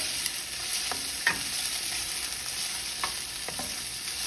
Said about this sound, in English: So just kind of stir those around that pan.